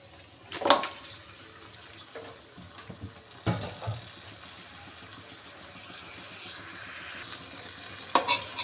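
Marinated beef, rubbed with spices and rested for ten minutes, goes into a hot pan and is stirred, with a few clattering knocks and a gentle sizzle at close range, no voices.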